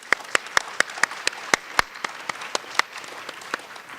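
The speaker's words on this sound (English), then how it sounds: "please invite the Executive Director with a big round of applause" A public forum audience greets an arriving executive director with a sparse, thin round of applause, individual claps standing out as sharp separate snaps in an irregular patter, fairly quiet and a little distant.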